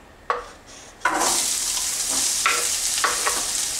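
A quarter onion hitting a spoonful of hot olive oil in a pan, bursting into a loud sizzle and then frying steadily while it is stirred, with several scraping stirs across the pan.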